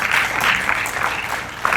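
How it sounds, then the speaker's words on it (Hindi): Audience applause rings out as a guest walks onto the stage at a Hindi cultural event, dense steady clapping from a crowd, loud and close with no voices over it. "उनके कदमों की भाप और आपकी तालियों की गूंज एक साथ चली जाएगी।"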